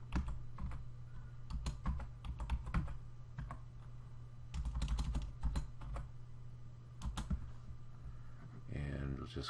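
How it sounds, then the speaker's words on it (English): Keys on a computer keyboard clatter in quick bursts while a Google search is typed, close and fairly crisp, with short pauses between runs of keystrokes and a low hum underneath. "just type in minions under Google search"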